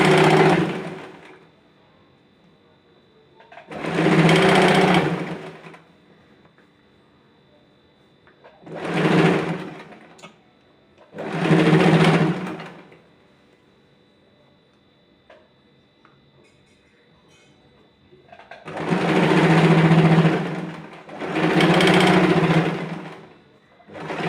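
Sewing machine stitching the side seams of a fabric cushion cover, running in five separate bursts of a few seconds each with quiet pauses between them.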